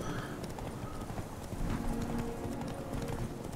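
Horse hooves gallop in a rapid, continuous clip-clop during a horse race in The Witcher 3, moderately loud over a faint game ambience.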